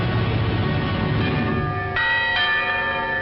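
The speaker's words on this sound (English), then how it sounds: "Once more, the people of Britain heard their church bells ring." Church bells ring out clearly, with new strikes layering over a sustained resonant hum; no voices.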